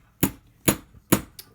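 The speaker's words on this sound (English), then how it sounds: "Let the hammer do the work. And you want it to come straight down." A hammer strikes a surface to make marks: four sharp, evenly spaced blows, close and loud, the last one slightly lighter.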